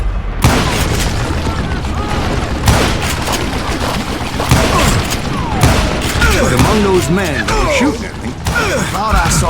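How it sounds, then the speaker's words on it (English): Heavy gunfire in the Western shooter Call of Juarez: Gunslinger, a dense barrage of booming shots and thuds hammering continuously from above, loud and close, with a voice talking over the shooting. "a fusillade of bullets come raining down from on high"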